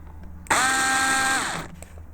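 A Hornady case prep trio machine spins up with a chamfer and deburr tool fitted, giving one steady high-pitched motor whine of about a second that then winds down, close by and alone.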